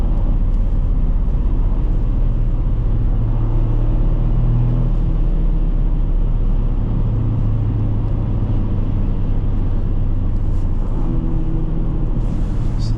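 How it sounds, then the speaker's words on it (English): A manual 2023 Toyota GR Corolla Circuit engine rumbles steadily from inside the cabin during a test drive, a loud continuous low drone with slight swells in pitch and no voices. "it's so easy to rev match this thing."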